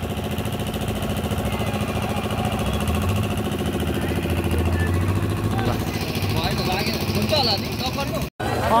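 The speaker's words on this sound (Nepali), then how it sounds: "हामी चाहिँ बाइक खन्काइरहेको छौँ" A steady, rough motorcycle engine drone runs close throughout at a crowded Rathyatra fair in Naxalbari, with rattling mechanical pulsing and voices talking over it.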